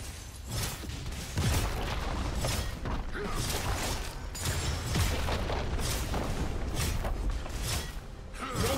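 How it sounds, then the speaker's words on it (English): A League of Legends turret being destroyed in a top-lane match, heard as a dense, continuous stretch of booming, rumbling game effects with repeated heavy impacts throughout. "Red team's turret has been destroyed."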